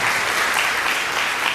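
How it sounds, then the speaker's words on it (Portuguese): A church congregation breaks into applause during a Portuguese-language sermon, a dense, even roar of many hands clapping together with no voices on top. "Aplauda Ele por essa palavra."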